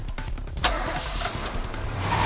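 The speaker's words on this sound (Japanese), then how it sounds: "けたたましいエンジン音を上げて、ワゴンを走り去っていった。" A van's engine in the video game 428: Shutterbugs rumbles loudly and steadily as the vehicle pulls away, a dense, continuous drone with a sharp knock early on.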